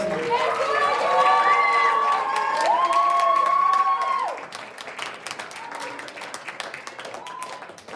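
Audience applause and cheering at a secondary-school show, a dense, loud wash of clapping with shouts and voices for about four seconds, then thinning to scattered claps and crowd noise.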